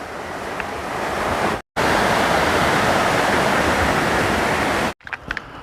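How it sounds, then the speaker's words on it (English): Steady rushing water from a small waterfall off a stream along the Appalachian Trail, a continuous close hiss of falling water with a brief cut partway through. "Nice little waterfall off that stream."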